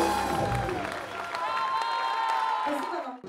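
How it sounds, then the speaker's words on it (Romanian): An audience at a solo blues concert applauds and cheers while a sustained musical tone lingers and a voice speaks over the clapping. "Cei prezenți la eveniment n-au ezitat să-i aducă în semn de recunoștință ropote de aplauze"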